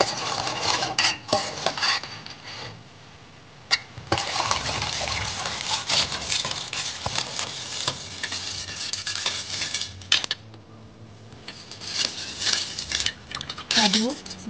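Nutrijell jelly powder mixed with 150 ml of water being stirred, with a spoon clinking and scraping against a pot in steady, busy strokes that run almost without a break, close and fairly loud, with a bit of talk.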